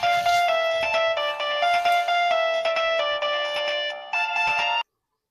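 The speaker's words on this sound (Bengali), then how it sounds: "আবার ফোন আইছে" An electronic phone ringtone plays a bright repeating melody for about five seconds, loud and close, then stops abruptly into silence.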